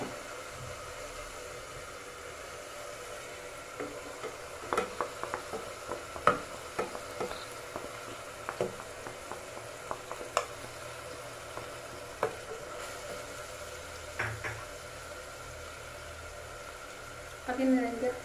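Onion and meat fry in a pan with a low continuous sizzle, broken by scattered clinks and scrapes of stirring, fairly close and moderately loud.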